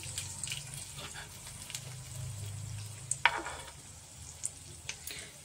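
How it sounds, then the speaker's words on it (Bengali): Whole spices, including a cinnamon stick and eight to ten black peppercorns, fry in a pan for chicken rezala with a steady close sizzle, and a spoon stirs and scrapes through with a few sharp clicks. "এবার আমি এটাকে ভালো করে একটু নেড়ে নেব"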